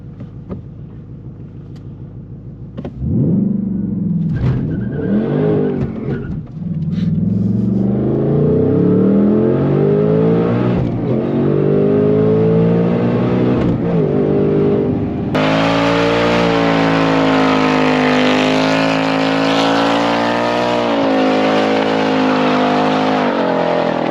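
2024 Ford Mustang Dark Horse with a Whipple supercharger launching hard, engine roaring as it climbs through revs and gear changes with a rising supercharger whine, loud and close from inside the car.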